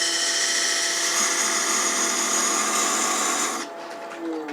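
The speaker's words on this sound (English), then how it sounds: "I'm just going to use a 1/8 inch parting tool" A 1/8 inch parting tool cuts a recess into a workpiece spinning on a metal lathe, a loud steady high-pitched whine of cutting and motor that holds for several seconds, then drops away abruptly near the end.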